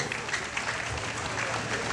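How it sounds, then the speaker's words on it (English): An audience claps for a friend's 50th birthday celebration, a short, even patter of many hands at moderate distance with no voices on top. "let's clap for Inka for 50th birthday, please"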